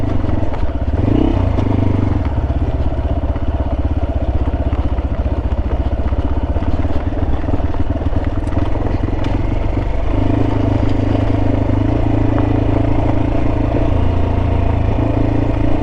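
Motorcycle descending a slope on a rough road, its engine drone steady and loud throughout with clatter and scraping from the bike and gravel, no talk.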